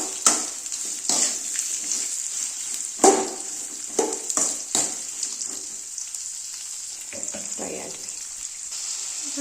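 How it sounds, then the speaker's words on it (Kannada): Tomato and beans frying in a pan for upma, a soft steady sizzle broken by sharp crackles and clattering stirs, fairly close, with no talking. "ಟೊಮ್ಯಾಟೊ ಬೀನ್ಸ್ ಎಲ್ಲ ಹಾಕ್ಕೊಂಡು ಫ್ರೈ ಮಾಡ್ಕೊತಾ ಇದ್ದೀನಿ"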